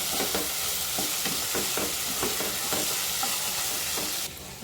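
Onion frying in oil with asafoetida in a pan while being stirred, a loud, dense sizzle with rhythmic scraping strokes that eases slightly at the very end.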